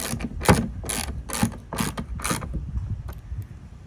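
A ratchet tightens bolts on a GoPro mount for a Sea-Doo GTX jet ski. About six quick, close clicking bursts come in an even rhythm, then a few fainter clicks follow.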